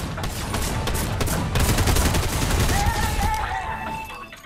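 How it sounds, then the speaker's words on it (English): Gunfire in a game: dense, loud rapid shots run steadily through the whole stretch like a continuous volley, with a voice faintly mixed underneath. "The fuck you shooting at?"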